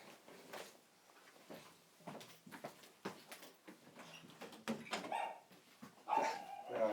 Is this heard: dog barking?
yes